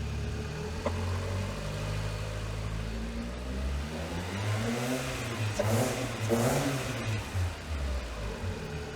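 Car engine revving steadily during an alternator charging test, a continuous mid-low drone that rises in pitch and intensity around the middle as the throttle opens, then settles again.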